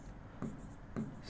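Two short scratchy strokes of handwriting, likely chalk or pen marking during a maths lesson, close and quiet with brief pauses between them and no speech.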